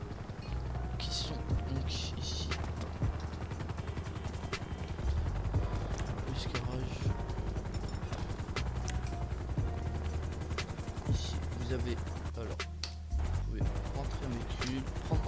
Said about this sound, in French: En train de déconner avec un hélico, le fou.